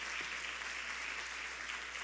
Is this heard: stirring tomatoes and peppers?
no